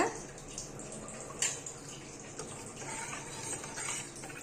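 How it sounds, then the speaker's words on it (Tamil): Salted water boils in a pot, ready for rice and lentils: a faint, steady bubbling with occasional small pops and ticks, heard close with no speech. "இப்போ நல்லா தண்ணி கொதிச்சிருச்சு"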